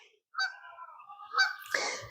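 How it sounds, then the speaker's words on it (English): A Canada goose honks at a farm: a few loud, nasal honks in quick succession, close and clear against quiet surroundings. "today what I see is a very active Canada goose honking away"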